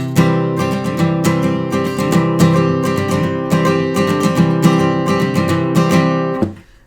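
A guitar strummed steadily with a pick in a quick, even rhythm, loud and close, ringing chords that cut off at the end.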